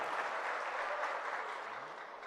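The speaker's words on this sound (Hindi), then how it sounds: "एक बार तालियां बजा के इस्तकबाल कीजिए" Audience at a poetry recital giving a round of welcoming applause, a steady, fairly soft spread of many hands clapping with no talk.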